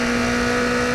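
Race cars accelerate toward the final right-hander at turn 15 of the wet Pau Grand Prix street circuit, a loud, steady engine drone with a sustained high-pitched whine throughout the second.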